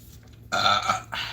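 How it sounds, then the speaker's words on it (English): A single loud, close burp, a rough guttural release in two parts with a short break between, heard alone without talk. "Confirmation burp."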